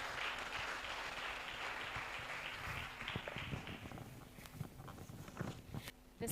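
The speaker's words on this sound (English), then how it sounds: "I would like to give her a big hand of applause as she's joining us" Audience at a data protection workshop in Lilongwe applauds a speaker joining, a broad, steady clapping that fades slightly toward the end.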